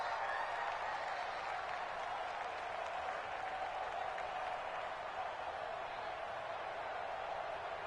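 Steady roar of a stadium crowd in an American football video game, continuous and fairly loud with no breaks, a dense wash of cheering and clapping filling the whole stretch.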